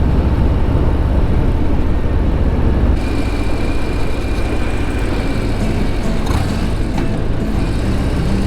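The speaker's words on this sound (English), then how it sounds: "with the Milwaukee 8 and the 117 motor, man, you got all kinds of power" A 2023 Harley-Davidson Breakout motorcycle with a Milwaukee-Eight 117 engine runs loud and steady, its deep rumble filling the whole stretch with a slight shift in tone partway through.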